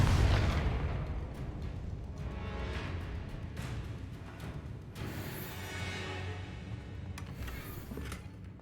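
The Confringo blasting spell explodes in the video game Hogwarts Legacy, producing rumbling, fairly faint booms with a sharp burst at the start and further blasts later over a low, continuous background roar.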